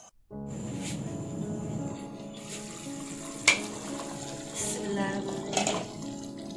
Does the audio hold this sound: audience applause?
no